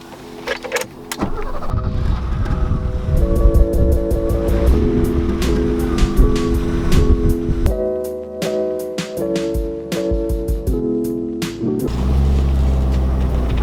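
A 1986 BMW E30 engine runs and revs through gear changes while driving, its pitch rising and dropping, with clicks and rattles from inside the cabin.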